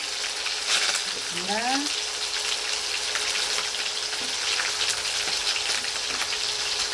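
An onion frying in a sauté pan, giving a steady bright sizzle throughout, close and moderately loud, with a brief spoken word and a short tonal sweep near the start.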